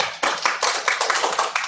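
A church congregation clapping together, dense rhythmic handclaps close and loud for a short burst with no talking.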